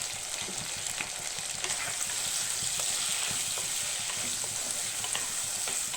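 Onions sautéing in a pan, just before tomatoes go in, make a continuous soft sizzle with light stirring, heard close and fairly quiet with no one talking.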